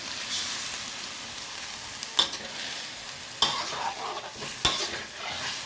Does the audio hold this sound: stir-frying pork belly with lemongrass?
yes